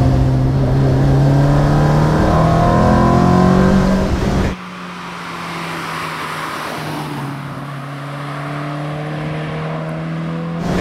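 Alfa Romeo 1750 GTV engine pulling hard under acceleration, a loud, close, rising drone that drops briefly at a gear change and then climbs again steadily, with no talking.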